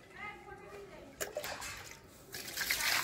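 Water splashing and trickling as pieces of meat are rinsed by hand in a home kitchen, with intermittent sloshes that grow louder near the end.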